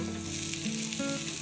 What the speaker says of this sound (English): This will get nicely sauteed.